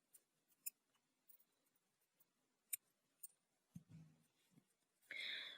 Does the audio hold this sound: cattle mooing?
no